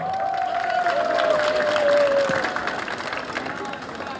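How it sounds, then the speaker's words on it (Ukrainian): Applause and crowd noise at a school graduation ceremony where diplomas are handed out, a steady mass of clapping from the assembled audience with a sustained tone running through the first half. "оплески"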